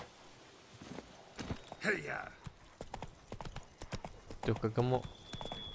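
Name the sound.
horse Roach hooves walking in video game Witcher 3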